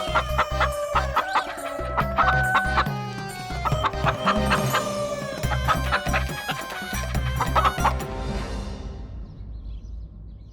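A hen clucks repeatedly and excitedly inside a house, with busy layered squawks and cackles over a steady background bed that cuts off abruptly and fades near the end.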